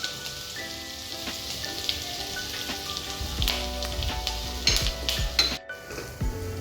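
Finely chopped curry leaves and garlic sizzling in hot oil for a whole moong curry: a steady crackling hiss broken by sharp clinks of a utensil against the pan, with no talking.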